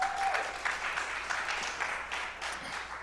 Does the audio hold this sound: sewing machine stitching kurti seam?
no